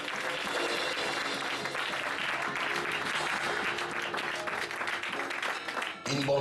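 Loud, continuous applause from a church congregation acclaiming Jesus, a crowded wash of clapping with a voice faintly mixed in, cutting off abruptly near the end.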